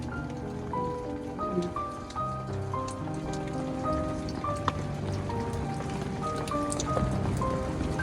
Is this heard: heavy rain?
yes